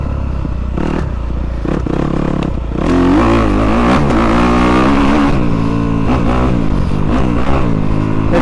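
A 2023 Kawasaki KX250 dirt bike on a motocross track at Dreamville MX Trails, engine loud and close, blipping in short bursts and then revving up and down through rising and falling pitch.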